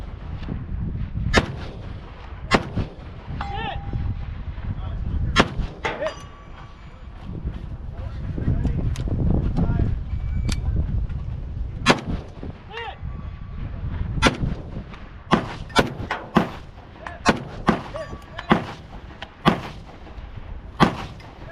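Rifle shots from a Tabuk sniper rifle during a designated marksman (DMR) match ring out as sharp, loud reports, spaced irregularly at first and then coming in a quicker series, over steady outdoor rumble.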